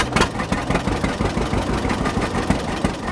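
A 1951 John Deere A high-crop tractor idles close by, its two-cylinder engine giving a loud, steady chugging pulse with regular knocking beats throughout, no voices over it.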